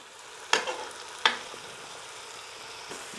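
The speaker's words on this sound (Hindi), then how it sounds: "बस हम इसको 4 से 5 मिनट तक के लिए भूनेंगे।" Beef pieces fry for nihari in a pressure cooker, a steady soft sizzle broken by two sharp stirring scrapes near the start, close and moderately quiet, with no voices.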